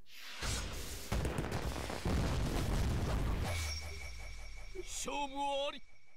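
A video game's Tengen ultimate erupts in a rapid run of explosions and bursts, dense and loud, then thins into crackling fireworks pops and a tonal sting at the end.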